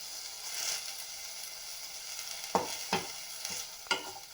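Mudakathan keerai leaves sautéing in a pan, a soft steady sizzle with a few distinct scraping stirs near the end.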